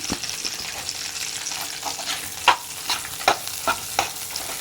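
Chilies and onions fry in hot oil for country chicken sambar, a bright close sizzle with several sharp scraping stir strokes of a spoon against the pan, no voices.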